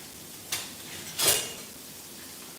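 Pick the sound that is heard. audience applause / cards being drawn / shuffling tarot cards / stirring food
stirring food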